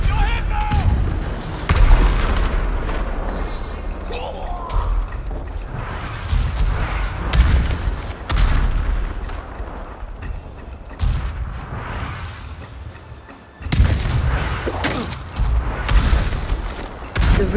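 Battle in Ghost of Tsushima's Iki Island expansion, with repeated heavy booms and bursts of gunfire at irregular intervals, a brief lull partway through, and voices shouting between the blasts.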